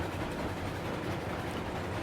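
A train in the video game RailRoads Online starting to move, heard as a steady, quiet rumbling drone of rolling wheels and machinery with no distinct clanks.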